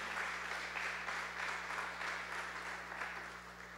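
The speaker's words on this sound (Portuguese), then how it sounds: "uma salva de palmas para o Mateuzinho." A church congregation gives a round of applause during a service, with steady, dense clapping from many hands that fills the room evenly and fades slightly at the end.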